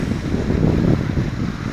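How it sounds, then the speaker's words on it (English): Water from a sewer drain spills as a small waterfall into the Chemung River in New York, a steady, close rushing wash with no voices over it. "It's like a little mini waterfall."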